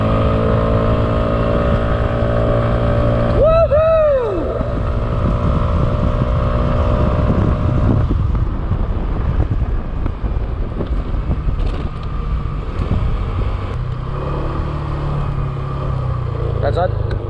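Mopeds ride up a mountain road near Chiang Mai, Thailand, with a steady engine drone and strong wind buffeting throughout, plus a passing vehicle sweep early on; voices are heard under the noise.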